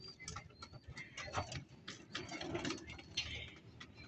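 Pigeons coo softly amid a busy wash of background noise and rustling, with a few low, rounded calls standing out.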